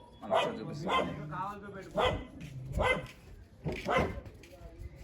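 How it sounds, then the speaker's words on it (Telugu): A dog barks in a series of about five loud, sharp barks at a steady pace, close by, with a faint voice in between. "మా కుక్క బిట్టు బిట్టు కూడా కావాలి"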